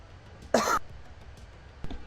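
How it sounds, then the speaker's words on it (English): A single close, sharp cough from a man at a home microphone during a live flight-simulator session, standing out against quiet room noise, with a softer throat sound near the end. "Right, sorry, cough."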